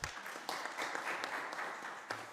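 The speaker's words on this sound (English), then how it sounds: "So another round of applause for her." Audience applause for a speaker at a campaign launch event in UN offices in Nairobi, a fairly faint, steady patter of many hands clapping throughout.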